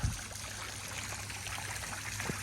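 A small creek flows into a garden pond with a quiet, continuous trickle and babble of water, heard alone and fairly faint.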